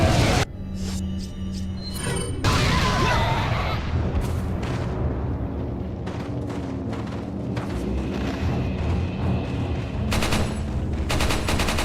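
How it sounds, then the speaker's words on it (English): A grenade is thrown and explodes in Resident Evil 4 on GameCube, a loud booming blast that rolls into a dense, crackling rumble of debris and game effects that keeps going for several seconds, with no voices over it. "Just throw an old-fashioned grenade down here."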